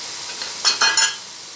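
Coriander powder is stirred into spices in a pan: three quick scraping sweeps of a spoon over a soft background sizzle.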